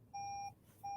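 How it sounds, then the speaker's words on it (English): A steady electronic beep tone sounds twice: one long beep of about a third of a second, a pause, then another begins. Clear and close, no talking. "something's beeping. I'm just going to turn that off for 1 second."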